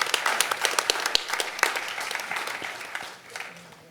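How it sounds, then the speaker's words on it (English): Applause for a county sheriff's department at a Century Village delegate assembly: a dense room-filling round of clapping with sharp individual claps standing out, steady for several seconds and easing slightly near the end. "How about a round of applause for our sheriff's department?"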